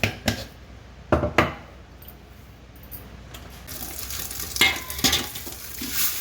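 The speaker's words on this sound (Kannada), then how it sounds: "ಈ ಥರ ಒಂದು ಪಾತ್ರೆಯಲ್ಲಿ, ದೊಡ್ಡ ಪಾತ್ರೆಯಲ್ಲಿ ಹಾಕ್ಕೊಂಡ್ಬಿಟ್ಟು ಸ್ವಲ್ಪ ಹುರ್ಕೋಬೇಕು" Spices for a Brahmin-style rasam powder being dry-roasted and stirred in a big pan, giving a soft continuous scraping sizzle with a few sharper stirring knocks near the start and end, no voices.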